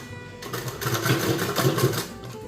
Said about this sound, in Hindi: ऐसा इसको आप मशीन में सिंपली जो लब में है, लब मतलब ये किनारे में आप सिलाई कर दीजिए।